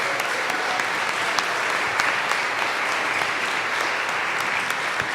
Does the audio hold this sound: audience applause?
yes